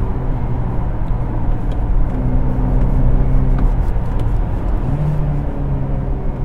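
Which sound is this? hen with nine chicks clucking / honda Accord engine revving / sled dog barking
honda Accord engine revving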